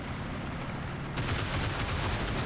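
Machine-gun fire from two guns in the Combat Mission tactical war game, with a steady background battle rumble that breaks into a louder, rapid rattle of repeated bursts about halfway through.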